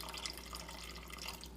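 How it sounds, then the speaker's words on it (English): Vinegar pours into a pot of cooking kale, giving a close, steady liquid splashing and dripping for a moment, with no talk over it. "And then I'm going to add vinegar."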